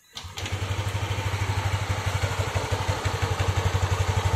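Yamaha Aerox 155 version 1 scooter engine cranks and fires up, then runs at a close, steady idle with a regular pulsing putter and some mechanical clatter, with no one speaking.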